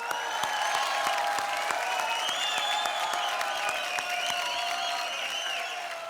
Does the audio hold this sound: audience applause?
yes